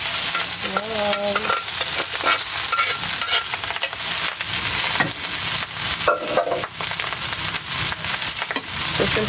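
Fried rice is tossed and stirred in a hot pan, with continuous loud sizzling and frequent scraping, clanking strokes of a utensil against the metal, close up and without talk.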